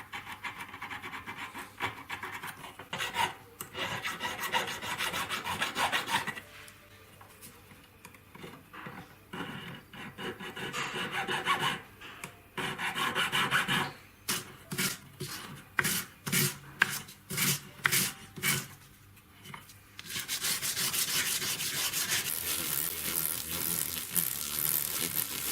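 Emery paper rubs over the solder joints of a handmade 925 silver band in quiet, close-up bursts of scratchy abrasion. A steady rubbing stretch is broken by a run of short rhythmic strokes, then the rubbing turns continuous again.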